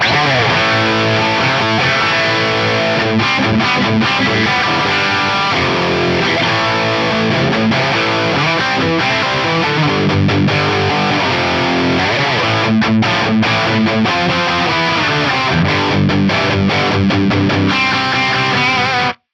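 Distorted electric guitar through a modded Marshall-style amp tone on an Axe-FX III, with saturation and drive, playing a dense, continuous riff that stays loud and full for the whole stretch with no talking.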